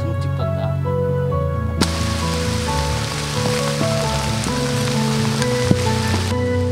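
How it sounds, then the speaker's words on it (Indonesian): Steady rain falls on a mountain hiking trail up Gunung Lawu via Candi Cheto in Central Java, a dense close patter over a layer of sustained musical tones, with no voices. "ternyata hujan menghampiri kami"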